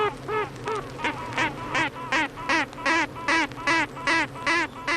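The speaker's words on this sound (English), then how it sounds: "They're the toots and quacks of queen honeybees." Queen honeybees give a rhythmic series of nasal, quacking pulses, about a dozen short bursts repeating steadily at roughly three per second. The pulses are loud and close over a buzzing hive hum.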